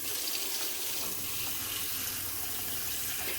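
Tap water runs steadily into a plastic Tupperware container, a continuous broadband rush of flowing water with no break and no voices.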